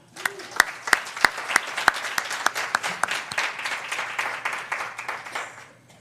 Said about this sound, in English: Can we get them a round of applause?